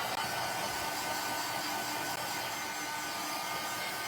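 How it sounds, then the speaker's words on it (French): A heat tool blows steadily while drying ink on a handmade card, a constant loud whooshing hum lasting the whole stretch with no breaks and no talk. "Et je sèche à chaque étape parce que sans ça, ça va smudger et ça sera pas beau."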